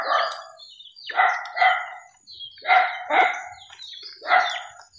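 A dog barks repeatedly nearby in short bursts of two or three, loud and clear, with faint bird chirps in the quiet gaps.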